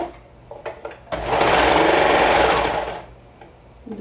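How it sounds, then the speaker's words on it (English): A sewing machine stitches stretched binding onto a neckline, a steady buzzing run of about two seconds after a few faint handling clicks, close and alone without speech. "stretch the binding to fit the neckline as you sew"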